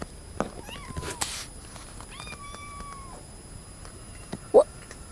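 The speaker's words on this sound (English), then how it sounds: "I just heard the kitty say mama." A cat on a porch gives two drawn-out meows, the second rising and wavering in a way that resembles "mama," close and clear against a quiet background, with a brief thump near the end.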